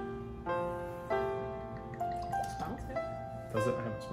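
Whiskey trickles and drips from an infinity bottle into a glass in a few short pours, close and fairly quiet, with a person talking over it.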